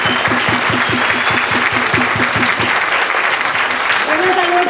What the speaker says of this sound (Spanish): Un aplauso para mi domadora